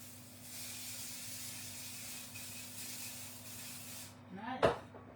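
Cooking spray coats a pie tin over a kitchen sink in one steady, close hiss lasting about four seconds, followed by a short sharp clatter as it stops.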